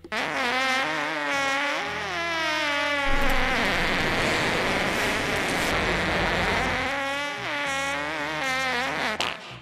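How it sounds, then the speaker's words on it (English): A long, loud, buzzing fart with wavering pitch, a rough noisy stretch in the middle, then more sputtering tones at the end. "that was a fart"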